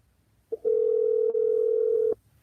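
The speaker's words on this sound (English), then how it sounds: "Let me mute this so y'all don't hear all that dialing." A telephone line sends a steady electronic tone in one sustained burst of about a second and a half with a tiny break partway through, clear against a quiet room.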